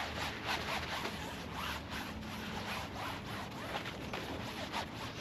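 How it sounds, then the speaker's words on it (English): Paper towels are rubbed firmly across a home gym bench, giving a continuous rough scrubbing and rubbing noise that stays loud and close throughout, with no talking. "Get some paper towels"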